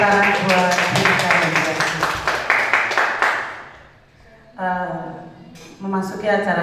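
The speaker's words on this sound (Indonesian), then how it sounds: "Tepuk tangan buat kita." Audience at an Indonesian school dissemination event clapping in a sustained burst of applause that fades out, followed by a voice speaking over the hall.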